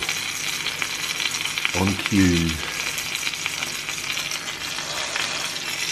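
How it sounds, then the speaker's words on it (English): Flounder fillets sizzle steadily in a hot frying pan, a constant close crackle throughout, while a voice speaks briefly near the middle. "Yes, you can hear that sizzling over here now."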